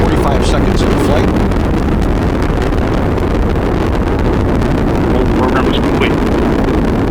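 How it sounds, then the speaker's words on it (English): An Atlas rocket carrying OSIRIS-REx roars in flight as a constant loud, wind-like rumble, with a launch commentator's voice over it. "the Atlas rocket carrying OSIRIS-REx has gone supersonic"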